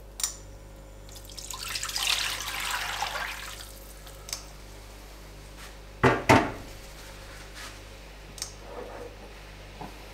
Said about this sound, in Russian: И выливаем жидкость, которую мы процеживали, опять в сковороду